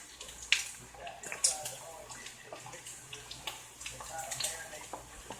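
A spoon stirs grits in water in a pot, making faint, intermittent scrapes and soft sloshes over a low background hum.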